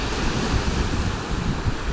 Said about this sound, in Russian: волны большие, не заплывай далеко.